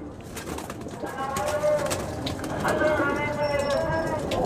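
Pigeons, including a Lakha breeder pair, coo in soft repeated calls close by, rising slightly in loudness toward the end, with a voice speaking over them and a brief high whistle-like tone.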